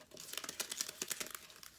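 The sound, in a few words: folding paper strips for a craft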